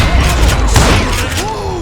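Gunfire echoes in the Western shooter game Call of Juarez: Gunslinger as a loud, dense, rumbling burst of booms. It runs continuously through the short moment with no clear speech.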